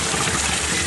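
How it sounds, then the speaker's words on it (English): Antifreeze coolant gushes out of a 2001 Honda Odyssey during a timing belt and water pump job, a loud, dense, continuous rush of pouring liquid heard up close. "All our coolant's gonna come out."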